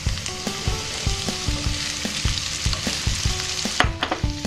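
Sliced tofu hitting a hot pan of onion, a steady close sizzle of frying with repeated sharp clacks of a utensil stirring and scraping at an uneven rhythm.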